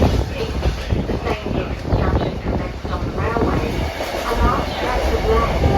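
Kuranda Scenic Railway train pulling into Cairns Railway Station: loud, close rumbling and rattling of carriages with clicking wheels and hiss, steady throughout, with faint voices beneath.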